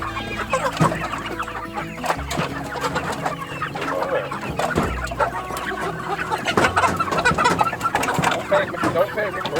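Cornish cross meat chickens on a homestead, a dense flock clucking and chattering continuously at close range, with scattered thumps and rustling throughout.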